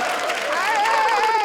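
Studio audience applause on a TV comedy show, a steady dense wash of clapping that fills the whole short stretch at an even level, with voices mixed in.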